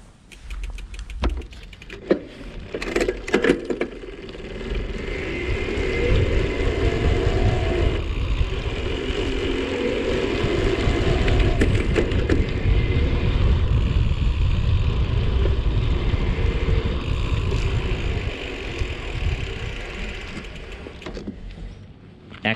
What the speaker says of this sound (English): I'm going to pedal at a really high cadence initially in a lower gear, just so you can see how fast that chainring spins